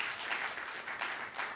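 A church congregation claps in strong, dense applause, steady and full with slight swells, heard alone without talk for a brief moment.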